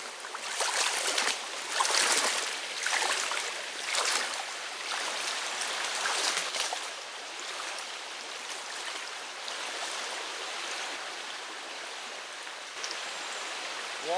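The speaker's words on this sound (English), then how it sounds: "We're going to attempt to cross the river." Fast, swollen river rushing past at a crossing point, a dense, continuous roar of churning water that is loud and close, slightly stronger at first, then steady, with no voices.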